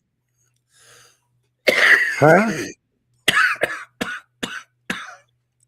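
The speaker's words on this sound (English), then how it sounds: "Why am I coughing like you?" Close, harsh coughing bursts, a long rough fit followed by several short sharp coughs in a row, with a brief spoken word in between.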